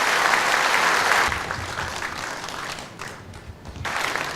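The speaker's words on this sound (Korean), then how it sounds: "박수 좀 주시죠." Audience applause at a mayoral inauguration ceremony in Daejeon, a broad burst of clapping that starts loud and then thins out, with a renewed swell near the end.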